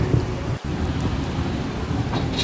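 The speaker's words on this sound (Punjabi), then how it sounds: "ਹਲੇ ਤੱਕ ਮੀਂਹ ਵੀ ਬਹੁਤ ਤੇਜ਼ ਪੈ ਰਿਹਾ ਬਾਹਰ" Heavy rain pours down outside in a dense, constant roar, with a brief dip partway through before the steady downpour resumes.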